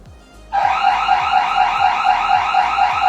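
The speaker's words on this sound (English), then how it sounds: "Alarm triggered. You have 10 seconds to disarm." A loud electronic home security alarm blares steadily after a brief quiet start, a rapid pulsing warble repeating without pause.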